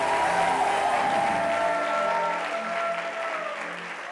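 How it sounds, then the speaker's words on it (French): A church congregation applauds and cheers in praise, dense clapping with a sustained vocal tone riding over it, full and close at first, then slowly thinning toward the end. "est-ce que tu peux pousser des cris de joie avec des acclamations à gloire au Seigneur?"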